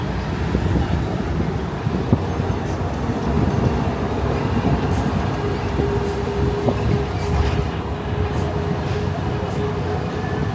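A Disneyland Resort tram rolls along with a constant rumble and wind buffeting the microphone. Faint background sounds occasionally cut through the steady noise.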